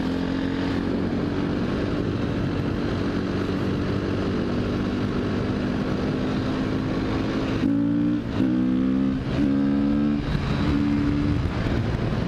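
A KTM motorcycle ridden along, with a steady, rumbling engine and exhaust drone that rises and falls as the throttle is worked, shifting pitch in a few quick blips toward the end.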